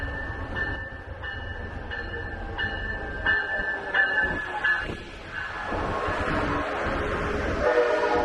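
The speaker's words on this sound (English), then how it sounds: "Amtrak train." An Amtrak passenger train rumbles past at close range in California, with a steady low roar and repeated high tonal squeals or horn-like tones over the rolling noise.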